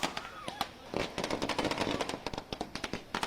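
Firecrackers burst in rapid, irregular volleys during nighttime street celebrations after an India–Pakistan Asia Cup cricket win, sharp cracks and pops crowding one another at moderate distance.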